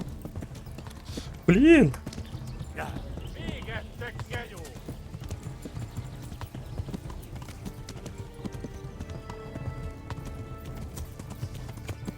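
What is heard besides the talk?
horse hooves clip-clop in video game Kingdom Come Deliverance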